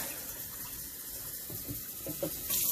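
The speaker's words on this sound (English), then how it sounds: "we're going to turn on this tap water right here" Tap water running from a faucet, a steady broadband rush throughout with a few faint knocks and a brighter splash near the end.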